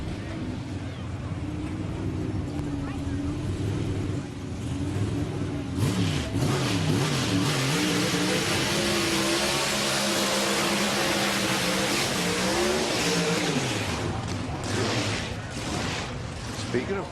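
Pro Stock drag racing cars at Topeka rev loudly at the start line, with engines building into sweeping rising and falling wails and a continuous thunderous roar. The sound is dense and near, and an announcer talks throughout.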